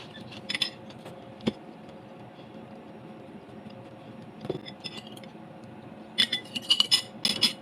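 Dishes and utensils are washed in a lab sink, with scattered clinks and clatters of cutlery and glassware over a low background hum, sharper jingling bursts near the end.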